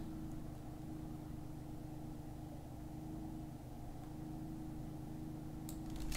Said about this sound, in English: despite the idling motor outside my window right now